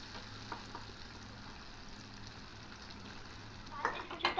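Grated coconut fries in hot oil for a dal tadka, a faint steady sizzle that grows into louder scraping and stirring clatter near the end.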